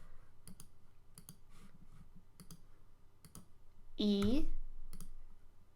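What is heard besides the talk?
mouse clicks while drawing guidelines in SketchUp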